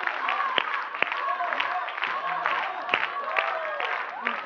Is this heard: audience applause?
yes